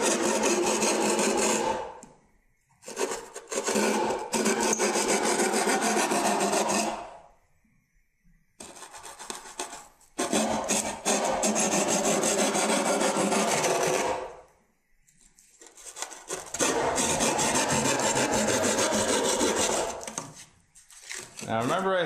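Drywall sheetrock being cut by turning and pushing a hand tool through it to make a hole, heard as close, loud rasping and scraping in long bursts separated by short pauses.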